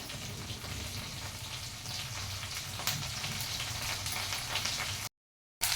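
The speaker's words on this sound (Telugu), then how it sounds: "బెండకాయ తాలింపు చేస్తున్నాను నేను" Okra tempering frying in a pan, a dense, even crackling sizzle held close and fairly quiet, ending in a brief silent gap.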